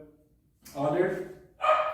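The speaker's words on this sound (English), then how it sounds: "Sorry, that's my dog." A dog barks indoors in a couple of short, loud bursts with a brief pause between them, heard up close.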